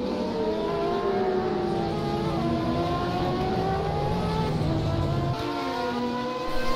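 In a sim racing game, an LMP2 race car and a GTE car howl together with steady high-revving engines, the pitches rising through the gears as one car laps the other, loud and continuous.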